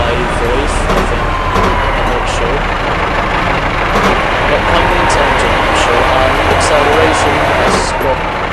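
Steady diesel engine drone of a BR Class 143 Pacer railbus with a Voith hydraulic gearbox in Train Simulator 2017 on the Riviera Line, a constant loud rumble with no change in pitch and a few faint high ticks over it.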